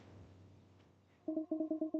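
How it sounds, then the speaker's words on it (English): Telephone ringing in the video game Astronook, a repeated electronic ring in short regular bursts that begins partway through after a quiet stretch, clear and alone. "Phone ringing."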